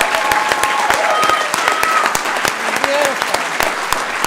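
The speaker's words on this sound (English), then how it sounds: "Let's give them another round of applause." At a city council meeting, the audience gives performers a round of applause, loud close clapping with distinct individual hand strikes and some voices underneath.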